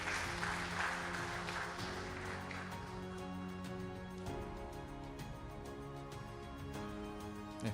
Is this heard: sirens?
no